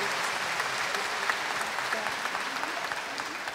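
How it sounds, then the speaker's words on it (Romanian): A congregation at a church anniversary event in Bucharest applauds on cue, a continuous, dense roll of clapping at even loudness with a few crisp individual claps standing out. "Aplaudați!"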